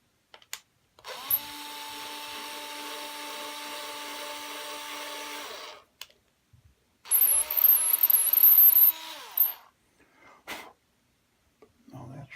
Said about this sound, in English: maybe I'll drill that a little bit in front